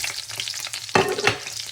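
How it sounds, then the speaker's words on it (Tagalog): Onions sautéing in a pan for Filipino beef steak, a steady close sizzle with a sharp burst of louder frying as they hit the hot oil, then settling back to a continuous crackle. "gigisahin na natin ang onions, guys, para sa ating"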